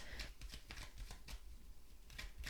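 A deck of tarot cards is shuffled by hand in a series of quick, crisp riffling bursts, close and fairly quiet, with no talking.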